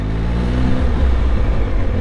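An MV Agusta Enduro Veloce 950 motorcycle accelerates under the rider, its loud, close engine note building and rising in a steady growl.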